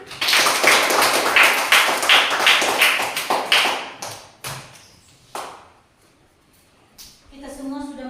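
A group clapping hands together in a gathering, brisk loud claps for several seconds that thin out into a few scattered claps, with a voice briefly heard at the end.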